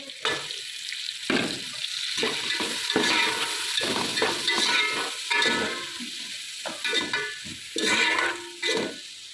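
Onion and tomato frying in a pan, a steady crackling sizzle with bursts of stirring and scraping throughout, close and fairly loud.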